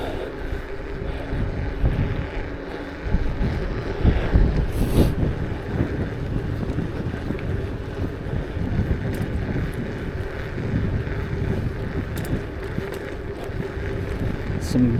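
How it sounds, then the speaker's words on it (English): Strong wind buffets the microphone of a bike rider out in the evening, a constant low roaring rumble with gusty swells filling the whole stretch, close and heavy, with no clear speech. "Some good wind tonight now."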